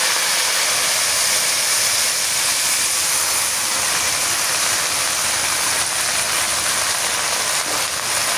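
Heavy rain pours outside during a rainy day while cooking goes on indoors, a dense, constant hiss, loud and unbroken, with no voices.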